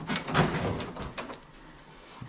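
An old door in an abandoned 1930s Victorian house opens with a brief scraping, creaking swing followed by a faint knock, close and fairly loud, then quiet.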